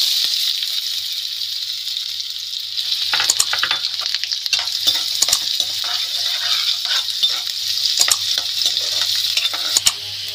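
Onions and potatoes fry in a pan while being stirred for a potato sabzi, giving a steady close sizzle with scraping and clinking strokes of a spoon against the pan.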